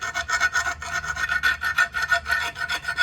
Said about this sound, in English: I'm just going to clean out the undercarriage of the mower, and it's got a bunch of grass built up in there.